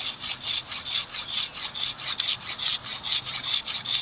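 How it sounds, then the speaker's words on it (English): A blade scrapes the chaff off dispersed dogbane stalk fibers in a steady back-and-forth rhythm, about four strokes a second, close and fairly clear, with no talk. "The only thing you want to be careful with scraping this chaff is that you don't scrape too much."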